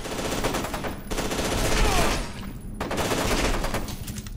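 Rapid automatic gunfire in the video game F.E.A.R. 2, dense loud bursts broken by short gaps, close and continuous.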